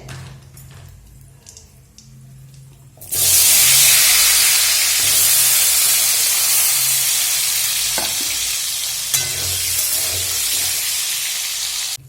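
Potatoes hit hot mustard oil with turmeric and burst into a loud, close sizzle that stays steady and slowly eases, with a few light stirring knocks after a quieter start.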